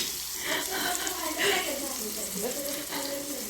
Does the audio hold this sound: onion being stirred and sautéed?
yes